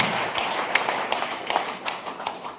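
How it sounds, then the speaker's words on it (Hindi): Sparse, uneven hand claps at a DXN business meeting in India stand out as separate sharp snaps over a low room murmur, the tail end of a round of applause. "जोरदार ताली प्रतिशत के लिए"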